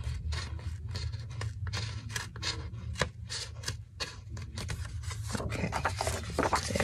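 Scissors snip through paper in a quick run of close, crisp cuts, followed by a scraping, rustling trim toward the end.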